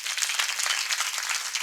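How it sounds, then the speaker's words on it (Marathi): A gathered crowd claps in a dense, steady burst of applause, close and full, with no talk over it. "एकदा वाजवा टाळ्या त्यांच्याकरता"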